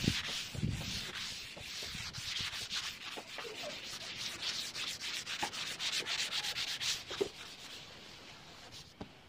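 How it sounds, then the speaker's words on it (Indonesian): Steady hand sanding of wood, a continuous scratchy rubbing with rhythmic back-and-forth strokes, close and moderately loud throughout. "Amplas keseluruhan seperti ini. supaya cepat halus."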